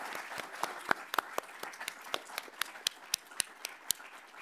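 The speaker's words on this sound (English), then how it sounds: "I just want to give an applause" Applause for panelists at a talk on watercolor, from a small audience. The claps are sparse and distinct, fairly faint and uneven, with no voices over them.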